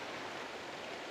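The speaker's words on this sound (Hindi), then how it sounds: "जो पानी जिस बहाव के साथ आ रहा है नीचे" Fast-flowing river water rushes beneath a suspension bridge near Passu, a steady faint broadband roar with no breaks across the short moment.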